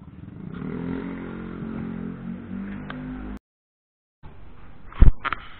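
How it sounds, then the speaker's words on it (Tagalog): A motorcycle engine hums steadily, cuts to silence, then returns with a few sharp clattering knocks near the end. "magmo-motor brum na naman tayo"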